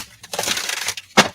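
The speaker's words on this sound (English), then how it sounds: "I'll shuffle some more now." An oracle card deck being shuffled, giving a quick run of papery riffling and rustling bursts with a sharper flurry near the end, close and fairly loud with no voices.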